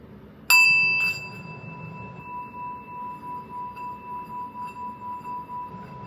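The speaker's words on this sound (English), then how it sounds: "take a deep breath in as you hear the ringing," A single bell is struck once and left to ring, its clear metallic tone sustaining and slowly fading over several seconds in an otherwise quiet room.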